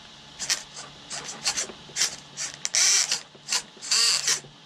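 A faulty servo inside an Arrma Fireteam RC car buzzes and grinds in short, uneven mechanical bursts, about a dozen ratcheting whirs close by with brief gaps between.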